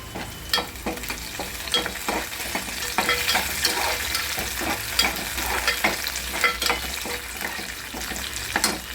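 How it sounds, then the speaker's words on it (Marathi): Curry leaves drop into hot oil with onions in a pan for a kaleji masala, giving a loud, close, continuous sizzle and crackle, with a stirring spoon scraping and tapping throughout. "यामध्ये आपण कढीपत्ता टाकूया"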